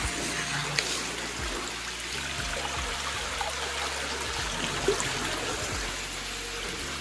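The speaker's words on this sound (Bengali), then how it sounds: "হ্যাঁ কত সুন্দর জলটা পড়ছে।" Water pours and flows steadily at Cherrapunji, a continuous close rushing wash with a few faint low thumps and no clear talk.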